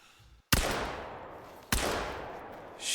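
Two sharp rifle shots in theHunter Call of the Wild hunting game, each a loud sudden crack followed by a long decaying echo, about a second apart with nothing else audible.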